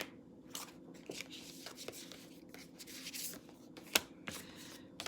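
Tarot cards are shuffled and handled close by, producing soft, irregular riffles, rubs and snaps, with one sharper slap near the end.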